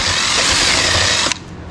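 A power drill with its bit enlarges a hole in fiberglass gelcoat, giving a loud, close, steady whir with gritty grinding that cuts off abruptly after about a second and a half.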